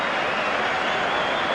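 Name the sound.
football crowd applause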